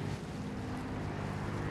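A motorboat passes off the port side of a ship on the Gulf of California, a steady low engine drone mixed with wind and water noise, continuous and fairly loud.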